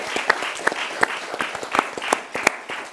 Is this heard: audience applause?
yes